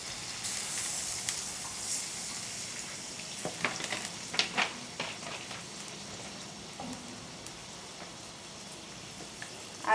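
Water poured into a pan of lightly fried shrimp sizzles and hisses steadily at moderate loudness, with faint scraping and stirring clatter partway through and no talk.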